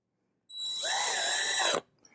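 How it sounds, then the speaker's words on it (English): A power drill whirs for just over a second, a steady high-pitched motor whine driving a screw in while mounting an Aqara U300 door lock, then cuts off abruptly. "I'm going to use a power tool just to speed things up"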